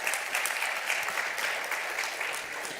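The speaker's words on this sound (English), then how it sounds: "A big warm of applause for Copernicus" Warm applause from the audience at a futurology science congress, a steady, even roar of many hands clapping, sustained at a constant level without pause.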